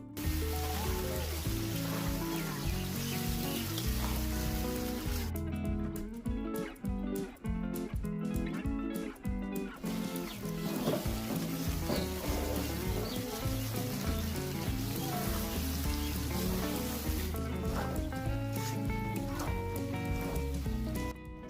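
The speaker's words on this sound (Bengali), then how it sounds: "2 থেকে 3 মিনিট খুব ভালো করে চিকেনটা কষবেন" Chicken pieces and chopped tomato fry in hot oil for a Bengali chicken kosha, a dense, steady sizzle with scraping and stirring knocks throughout, close up.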